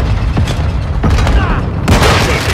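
A flashbang grenade going off in a first-person shooter game, several sharp loud bursts with gunfire-like cracks, close and punchy over a constant background, with brief voice chatter.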